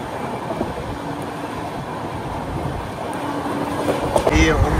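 Steady rolling roar and rattle of the MGR Chennai Central–Visakhapatnam Weekly SF Express 22802 running through without stopping, continuous from on board, growing slightly louder with a few sharp squeals near the end.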